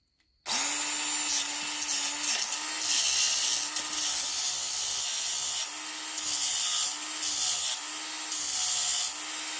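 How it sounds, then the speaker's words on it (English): Loud abrasive grinding from a small motorized Smith's knife sharpener reshaping a flint tip, pulsing in repeated strokes as the flint is pushed through, with the motor whine underneath. "This is a Smith's knife sharpener. It sucks as a knife sharpener. And it's going to be real loud."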